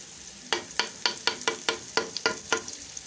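Crushed garlic and ginger stirred in a hot pan for chicken biryani: about ten evenly spaced scrapes of a spoon against the pan over a faint sizzle, close and fairly clear with no talking.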